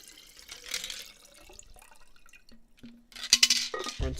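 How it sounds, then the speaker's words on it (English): Water poured out at home, a soft liquid splash with faint glassy clinks and drips, close and fairly quiet, with a brief louder gush near the end and no talk. "I'm gonna pour out some water"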